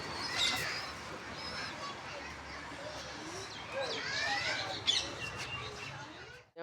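Young pigeon chicks near their coop in a home loft, giving small chirps and calls against a busy background, with children's voices and chatter mixed in.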